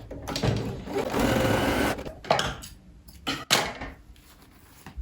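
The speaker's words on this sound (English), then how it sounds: "stitch the two pieces together as well." Sewing machine stitching pieces of legging fabric together in a couple of bursts of fast whirring, with fabric handling and clunks between the runs, close.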